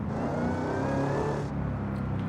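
A car engine fitted with a bigger supercharger revs hard in the Forza Horizon 5 racing game, a loud, close, continuous roar with a rising supercharger whine that drops off sharply near the end.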